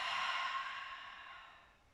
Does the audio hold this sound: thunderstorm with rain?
no